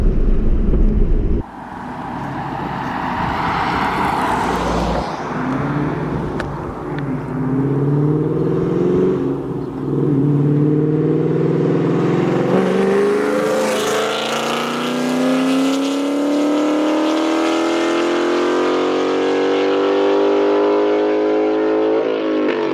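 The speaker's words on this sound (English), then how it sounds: "Freaking car was picking up quick." A car with a new 5.0 engine accelerates at wide open throttle, its loud engine note climbing steadily through the gears with brief shift dips. The rising roar is heard close from inside the vehicle.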